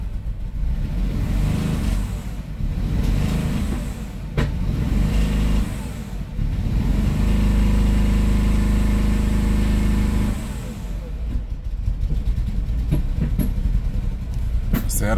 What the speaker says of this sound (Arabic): السيارة دارت الآن.